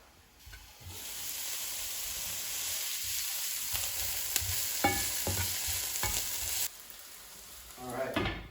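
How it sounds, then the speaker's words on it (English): Onions sizzle and cook down in a pan, a steady close frying hiss with occasional clicks and scrapes of stirring, continuing loudly before dropping off near the end. "Alright, so the onions are cooking down nicely."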